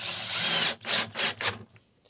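A power drill drives screws into an aluminum 3-in-1 pocket hole jig, one long whir followed by three short, careful bursts that stop abruptly, close and fairly loud, with no talking.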